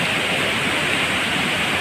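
A waterfall at Leuwi Ceupet where people swim gives a dense, steady roar of falling water, loud and close, with broad, even rushing noise throughout and no voices.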